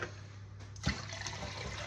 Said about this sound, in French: Plat dans lequel je mets mon lait, je vous rappelle, il est tiède.